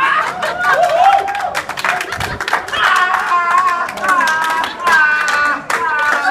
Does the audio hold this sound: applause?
yes